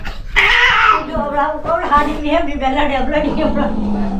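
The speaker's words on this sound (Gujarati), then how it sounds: "બે બિલાડી ભેગી થઈ ગઈ." Two cats meow and yowl in drawn-out, wavering cries that start loud and continue close by, with voices and indoor bustle around them.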